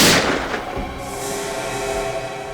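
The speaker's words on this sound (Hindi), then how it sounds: "गोली चलने की आवाज आई।" A loud, sudden gunshot opens the clip, then rumbling reverberation trails off into a steady noisy background.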